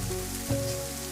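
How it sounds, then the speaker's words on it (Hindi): Heavy rain pours steadily on a house roof during a storm with strong wind, a dense, even wash of drumming drops with a low rumble beneath, continuous and close throughout. "आज तो कितनी तेज बारिश हो रही है, जैसे आज के बाद कभी बारिश ही नहीं होगी।"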